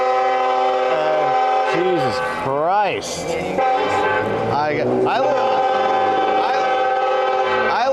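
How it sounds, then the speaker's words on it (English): A passenger train on a nearby railroad blares its horn in strong, sustained tones that swell and shift over several seconds, close and loud, while a man briefly exclaims over it. "I live right by a train, but it's like a passenger railroad."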